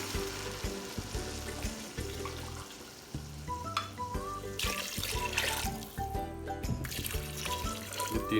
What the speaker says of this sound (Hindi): 3 गिलास पानी इसमें ऐड कर देंगे।